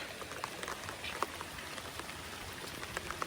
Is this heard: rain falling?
yes